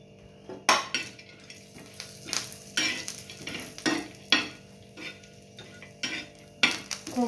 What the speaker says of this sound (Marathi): खोबरंही आपल्याला लालसर भाजून घ्यायचंय